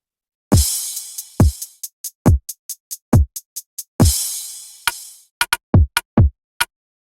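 A programmed trap drum pattern from an FL Studio remake of a song plays alone: booming kicks, each with a crashing splash, spaced around crisp short hits, then a quicker burst of punchy beats toward the end.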